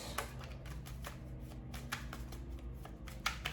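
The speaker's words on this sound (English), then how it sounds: "Shuffling for Taurus." Tarot cards are shuffled steadily, a soft repeated riffling and slapping of paper, close and fairly quiet with no talking.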